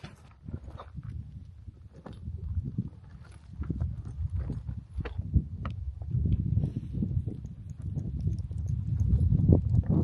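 Mule hooves clip-clop in an irregular walking rhythm on hard desert ground, fairly quiet and close, with no voices.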